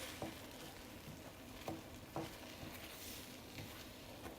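Egg bhurji fries quietly in a frying pan, a faint soft sizzle with a few light scraping taps of a spatula as it is stirred, no talking.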